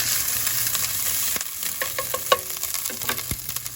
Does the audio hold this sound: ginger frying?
yes